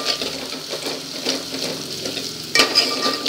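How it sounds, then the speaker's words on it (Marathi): Chopped onion sizzles steadily in a pan over medium heat for sambar, stirred with repeated scraping strokes and a sharper clank of the utensil near the end, close and alone. "इकडे आपला कांदा पण लाल होत आला आहे"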